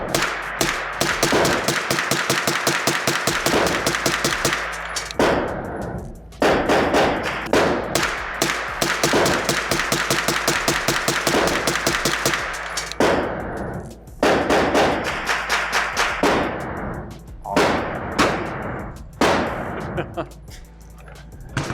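A 9mm CMMG pistol caliber carbine fired outdoors from a 20-round magazine, loud sharp shots in fast bursts and quick strings separated by brief pauses.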